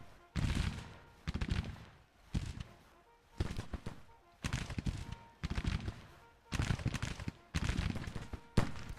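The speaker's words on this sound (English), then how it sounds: "Good volley, Mar." Rifle volleys crack out in the Civil War strategy game Grand Tactician, arriving in about eight loud separate bursts, each a ragged cluster of overlapping shots with a short gap before the next.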